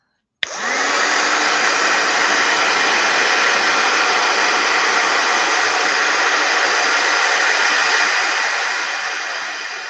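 A hair dryer or heat tool switches on abruptly and runs as a loud, steady, close-up whoosh, blowing continuously to dry paint on a handmade Halloween card.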